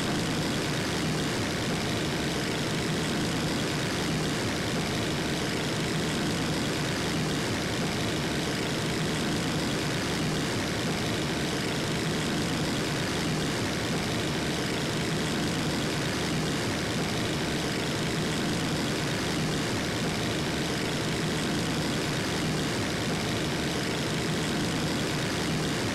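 Gyrocopter engine in an ArmA II mod, a steady, loud, continuous droning rumble that holds constant throughout without pauses or voices.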